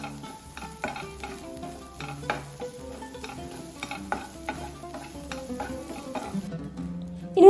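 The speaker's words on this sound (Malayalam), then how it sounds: "ഈ ഒരു മസാലയ്ക്കൊന്ന് മൂത്ത് വരുന്നത് വരെ ഒന്ന് വഴറ്റി കൊടുക്കാം" Masala with garam masala being sautéed in a pan for an Iftar beef snack, a steady low sizzle under repeated scraping and clinking stirs of a spoon against the pan, fairly close, with no one talking.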